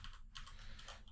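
A few computer keyboard shortcut keys pressed in quick succession, crisp close clicks over a low steady hum, with no voices.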